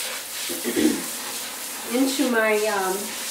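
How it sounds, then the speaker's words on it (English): Water from a sink sprayer built into a kitchen faucet hisses steadily into the sink, a close, continuous spray while someone speaks over it. "you can take and spray in the sink"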